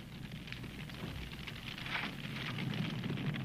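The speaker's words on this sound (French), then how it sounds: "Un incendie! Il se propage dans notre direction." A fire in a film scene crackles and spreads, a steady dense hiss with scattered pops and snaps that grows slightly louder, heard alone without talk.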